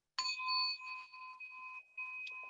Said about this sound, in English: So I'll ring the bell to take us in.